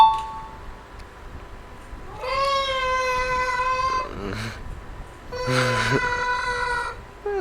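A cat gives two long, drawn-out meows, close and clear, with a brief rising call between them over a steady low background hum.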